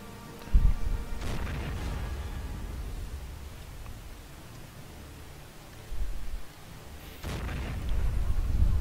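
A tank main gun firing in Men of War: Assault Squad 2, heavy booms at intervals with a couple of sharp reports amid low rumbling battlefield noise.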